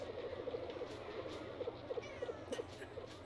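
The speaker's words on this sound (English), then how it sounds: "he's meowed every time I look at him" A cat meows repeatedly in short, faint, regular chirps, heard indoors at a low level against a steady background hum, with no speech over it.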